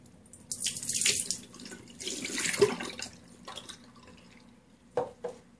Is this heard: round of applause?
no